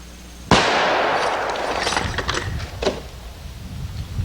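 A single loud gunshot as a 185 grain bullet at 1,550 feet per second hits an orange juice bottle, a sharp crack followed by a long splashing, rumbling decay with scattered spatter.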